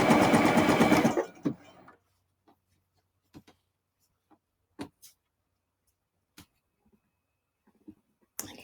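A sewing machine stitches understitching on a hood facing and lining, running loud and close for about a second before stopping, followed by scattered soft clicks and handling sounds in near silence.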